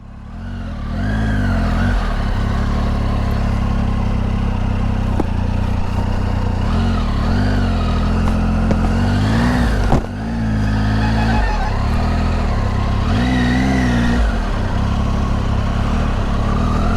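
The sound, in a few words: Triumph Tiger 800 motorcycle engine riding off-road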